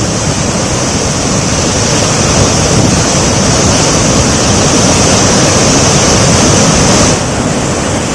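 Godavari water gushes at high volume from pumps into the Mallannasagar reservoir in Siddipet district, a loud, steady roar of rushing water that holds unbroken throughout.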